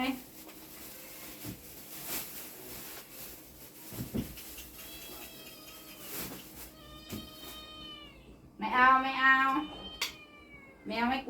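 A cat meows several times, faint at first, then two loud, drawn-out meows near the end, with people talking quietly in the background.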